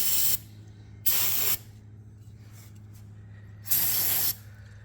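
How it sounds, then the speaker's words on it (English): Brake cleaner sprays from an aerosol can in three hissing bursts, the second and third longer, with quiet pauses and a low steady hum underneath. "I'm gonna spray some brake cleaner for all that gas"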